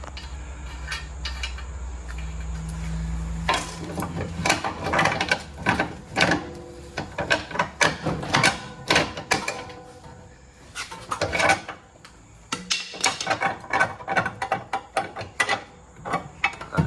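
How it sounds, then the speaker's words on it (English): Ratchet wrench loosening a 19 mm nut on a worn Honda CR-V lower ball joint, heard as bursts of rapid clicking pawl ratchets with metallic clanks, close and loud, broken by short pauses, no talk. "And take the 19 millimeter nut off."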